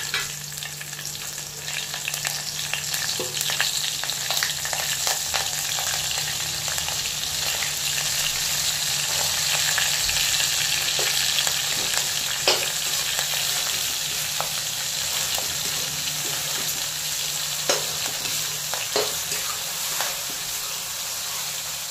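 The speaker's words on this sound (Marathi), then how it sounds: "मी खिचडी सोबत खाण्यासाठी याच्यामध्ये थोड्याशा मिरची तळून घेते" Green chillies fry in hot oil for sabudana khichdi, a steady close sizzle and hiss with occasional stirring clicks and pops running throughout.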